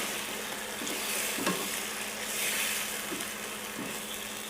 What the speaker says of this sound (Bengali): এটাকে একটু ভালো করে নাড়িয়ে মিশিয়ে দিচ্ছি।